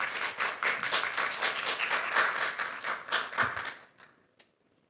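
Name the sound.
audience applause welcoming a speaker at a seminar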